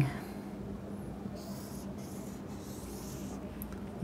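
Marker or chalk writing on a board during a probability lesson, soft scratchy strokes in a few short bursts over a steady room hum, fairly quiet and close.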